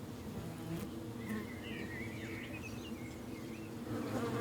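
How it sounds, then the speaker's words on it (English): Honey bees from a forest-edge apiary of 24 colonies buzz steadily and close, a dense continuous hum with individual insects whining past, no voices present. "1 million bees visiting 1 billion blossoms every day."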